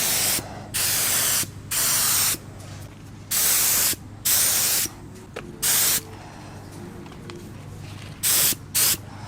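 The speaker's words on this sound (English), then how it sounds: "when you're starting to spray this color, they want you to spray it kind of slow, like nice and patchy at first" Short hissing bursts of purple spray paint coat an Infiniti G35 engine bay, about eight separate sprays of a second or so each, broken by quiet pauses.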